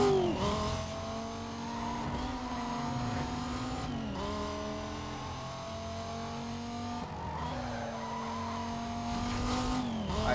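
A Dodge Viper roars past in Need for Speed: Most Wanted, its engine droning loud and steady with rising revs between gear shifts, tires faintly squealing under continuous racing noise.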